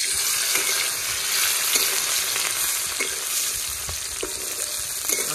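Carrot, capsicum and beans fry in hot oil with a steady, loud, dense sizzle that runs unbroken, with occasional faint stirring clicks and no voices.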